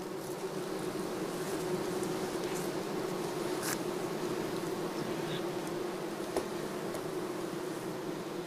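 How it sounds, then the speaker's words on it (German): Honey bees buzz steadily at a hive on a Swiss farm, a dense continuous drone with a few louder passes of individual bees flying close, no voices present. "hat Freude am Arbeiten mit den fleissigen Bienen."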